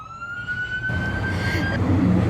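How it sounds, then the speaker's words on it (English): A wailing siren in central Phoenix holds a high pitch over rumbling traffic, then drops off as a louder, rougher noise takes over. "Here by the siren."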